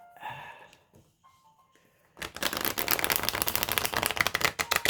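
Tarot cards with waxy, slippery backs riffled and shuffled up close, a thick deck, a fast crackling flutter that starts abruptly after a few quiet handling taps and continues steadily.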